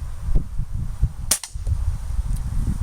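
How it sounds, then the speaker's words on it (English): A single sharp, loud crack from an SMK BAM DB4 .22 Chinese air rifle fired into wood, close by, set against a low outdoor rumble with no talking. "he said I could fire at the wood"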